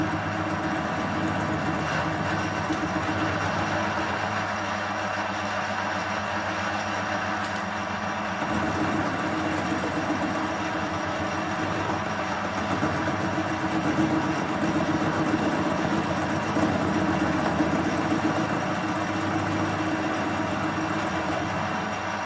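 A metal lathe without a quick-change gearbox turns a rough-surfaced rebar rod being made into a heavy-duty screwdriver. A continuous close motor hum with steady tones runs throughout, shifting slightly partway through.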